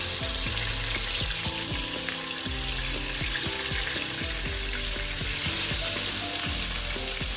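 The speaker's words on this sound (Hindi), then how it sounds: "इन सब चीज़ों को हम अच्छा सा भून लेंगे।" Steady oil sizzle and crackle of ginger garlic paste, cumin and whole red chillies frying, continuous and close, with occasional light stirring and clinks.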